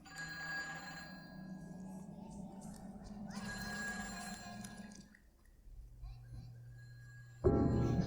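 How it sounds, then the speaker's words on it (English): Telephone ringing in the horror video game Silent Hill 4, a harmonic electronic ring heard in a couple of bursts beneath low background hum and game ambience, ending in a loud thump. "Is the phone ringing?"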